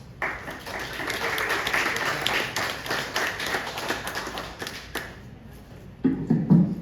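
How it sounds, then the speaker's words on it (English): Audience at a comedy show applauding to welcome a comedian on stage, a sustained burst of clapping that fades after about five seconds before a louder voice breaks in. "let's give him a round of applause"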